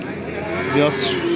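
A single deep, drawn-out moo from a black bull swells close by, with faint background chatter.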